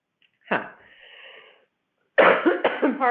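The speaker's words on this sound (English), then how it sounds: "Coughing when I'm talking about this." A single harsh cough bursts out near the mic, trails off into a brief strained sound, then after a pause a person starts talking.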